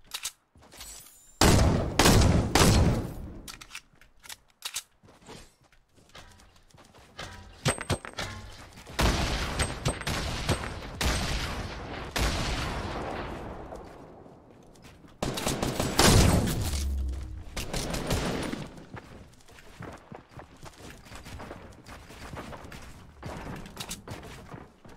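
Double-barrel shotgun fire in Fortnite: several loud, sharp blasts spaced a few seconds apart, each with a ragged tail, over a busy mix of game effects.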